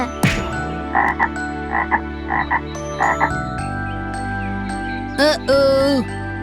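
Cartoon frog croaking in a kids' animated story, a run of loud, close, tonal ribbits in short bursts, then a couple of stretched, wobbling croaks near the end, with light jingly sounds mixed in and no talking.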